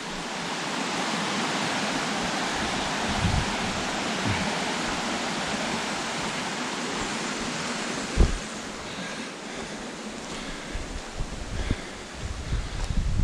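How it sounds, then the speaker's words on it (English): After rain, water rushes under a railway bridge in a steady broad roar, loud and continuous, with a thump near the middle and faint stirrings toward the end. "This water you hear, Carl, is water coming under the bridge of the railway line."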